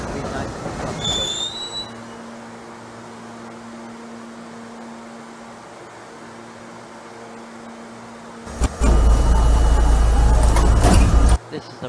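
A New York City subway A Express train in Trainz Simulator 2012, with a steady low motor hum and a brief chime at the start, ending in a loud, sustained rumble of the train moving.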